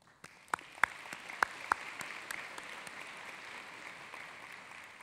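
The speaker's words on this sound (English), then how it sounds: "You all deserve a round of applause as well." Audience applause at a West Virginia University School of Dentistry commencement, honoring the graduating students' families; a faint, steady clatter of many hands with a few sharper claps standing out early on.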